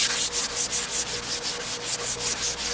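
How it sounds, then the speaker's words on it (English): Steady back-and-forth rubbing of 240-grit sandpaper on a wooden rolling pin, about a dozen even strokes in a regular rhythm, close and moderately loud. "give it some more sanding with the 240"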